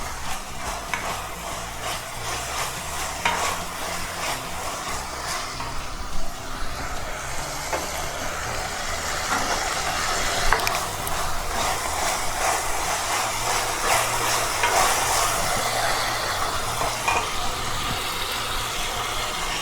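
Onions and tomatoes with ginger-garlic paste sautéing in a pan for paneer pasta, a continuous dense sizzle with repeated scraping stir strokes, close and steady throughout, with a low background hum and no clear talk.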